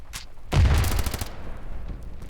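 A short burst of rapid gunfire from the video game STANDOFF crackles loudly for under a second, followed by fading reverberant rumble and quieter background game noise.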